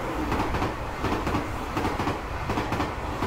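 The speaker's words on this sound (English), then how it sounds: "And the train from above." Train rumbling past overhead in the horror video game Tsugunohi, a steady loud rolling clatter of wheels filling the scene with no talk.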